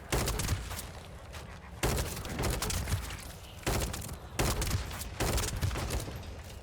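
A player fires a second gun in The First Descendant, sustained automatic bursts in four or five long strings separated by short pauses, close and steady.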